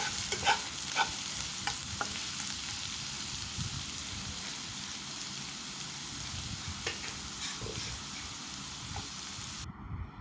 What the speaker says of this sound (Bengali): পেঁয়াজ কুচিটা দিয়ে একটু ভাজা ভাজা করে নেব।